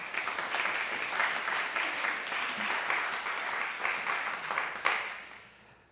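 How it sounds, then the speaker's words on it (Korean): A church congregation claps in steady, dense applause that holds at an even level for several seconds, then fades away at the end, with no speech. "우리 격려의 박수 한번 할까요?"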